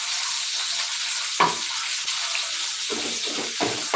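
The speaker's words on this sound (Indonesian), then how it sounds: "irisan cincangan bawang putih dan jahe. Kita goreng-goreng aja." Chopped garlic and ginger frying in hot oil in a home kitchen, a loud, bright, steady sizzle with a few stirring scrapes and pops.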